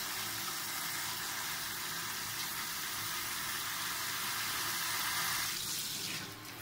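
Tap water from a sink pours through an orchid pot in semi-hydro as a steady, hissing rush. It continues without a break and changes tone just before stopping near the end.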